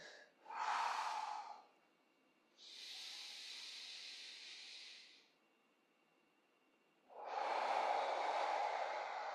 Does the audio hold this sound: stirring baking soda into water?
no